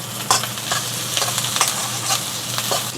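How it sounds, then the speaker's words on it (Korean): Garlic, ginger and green onion stir-fried in chili oil in a preheated pan: a close steady sizzle with several quick scraping stirs at irregular intervals, no voices. "고추기름을 두릅니다. 2큰술 정도 두르고 여기다가 향채소, 마늘, 생강, 대파를 볶아줄게요."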